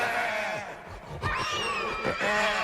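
A creepy cuckoo clock in a spooky house lets out a strained, wavering squeal like a dying pig, with bleating, scream-like harmonic cries rising and falling over a couple of seconds, fairly loud and close.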